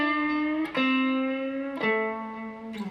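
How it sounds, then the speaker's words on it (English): Electric guitar blues rock riff played alone, with sustained distorted notes that glide between pitches as pre-bends are released, two clear pitch drops and a new pick attack near the end. "Now we're going to do, on the second beat,"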